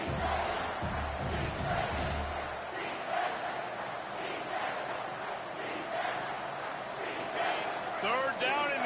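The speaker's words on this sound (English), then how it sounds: "Third down, and this crowd is tearing the lid off this place." A football stadium crowd at a South Carolina game roars on third down, a dense sustained din of cheering and yelling with a commentator's voice talking over it.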